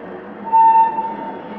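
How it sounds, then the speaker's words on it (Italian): A train pulls into a station: a steady rolling rumble with a brief, high metallic squeal, like brakes, swelling through the middle of the clip before fading back into the drone. "Dai, smettila, sta arrivando il treno, vuoi perdere?"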